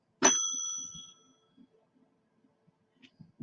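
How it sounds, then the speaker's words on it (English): One clear ring of a small hand bell, a bright metallic tone decaying over about a second, followed by faint rustling and handling noises. "Okay, I'll do the bell."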